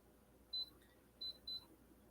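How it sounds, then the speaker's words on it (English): A mug warmer gives three short, high electronic beeps as it is switched on, one then a pause and a quick pair, faint and close in a quiet room. "I have a mug warmer that I am turning on because my tea is getting a little cold."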